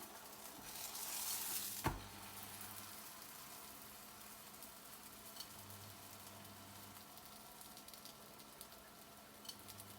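Moroccan msemen flatbread frying in an oiled pan, a faint steady sizzle with a sharp clatter near the start as it is laid down, then quiet crackling continuing alone.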